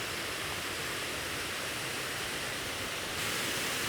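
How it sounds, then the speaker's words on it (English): Waterfall on a fell hike in the Lake District, heard as a steady, loud, unbroken rush of falling water with no other sounds. "Look at the waterfall here."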